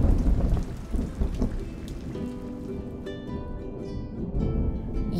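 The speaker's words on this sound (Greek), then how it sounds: "Είδα σήμερα πολύ βροχή" Heavy rain pours down while deep thunder rumbles underneath, a loud continuous wash of rainfall with low rolling booms; a faint tonal background sound enters partway through.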